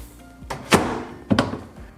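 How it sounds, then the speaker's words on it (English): A GE microwave door swung shut after a door switch repair, giving two solid plastic thunks about half a second apart, close and fairly loud. "Snug those down, and we can close our door."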